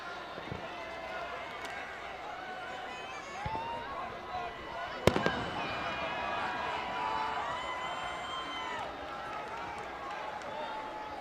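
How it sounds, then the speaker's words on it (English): During a high school football game between White Bear Lake and Mounds View, a single distant firework bang cracks sharply over crowd noise and running play-by-play commentary. "I thought I heard a firework go off"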